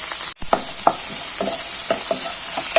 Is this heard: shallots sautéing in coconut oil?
yes